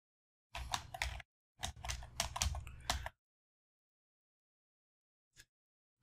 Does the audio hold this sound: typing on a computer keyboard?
yes